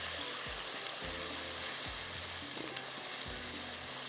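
Onion fries in a pan, a soft, steady sizzle with repeated low scraping strokes from stirring at roughly regular intervals.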